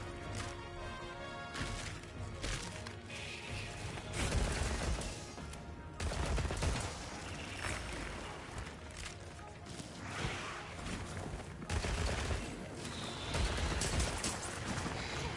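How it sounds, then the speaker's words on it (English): An element bowgun fires in Monster Hunter Wilds, rapid repeated shots and impacts layered with game music and effects, dense and continuous throughout. "this is meant to be an element bow gun"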